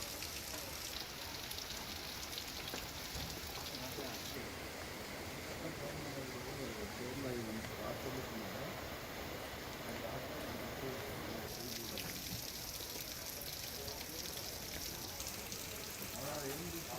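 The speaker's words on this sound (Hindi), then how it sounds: "उस अलर्ट के मुताबिक लगातार बारिश भी हो रही है" Heavy rain pours steadily in Vaishali, Bihar, a dense, unbroken hiss of drops striking surfaces, loud and continuous throughout with no pause.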